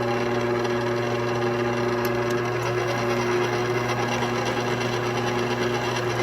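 Electric stand mixer creaming butter, sugar and pink Himalayan salt for cinnamon rolls, a steady loud motor whir with a constant hum, running alone without talk.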